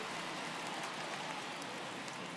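Steady rain hisses down on a baseball field in a video game, an even broadband wash of falling drops with no voices over it.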